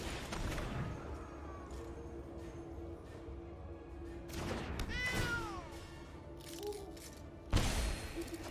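A cat meows from a card played in the digital card game, a short rising-and-falling cry heard over steady game background music, with a sharp effect sound following near the end.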